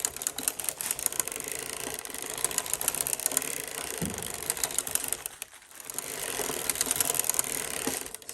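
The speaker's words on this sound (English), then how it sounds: "So I'm going to just knit 40 rows now." A hand-cranked sock knitting machine with a ribber runs steadily through rows, giving a dense, rapid mechanical clatter of needles and cams with a brief lull near the middle before the rattling resumes.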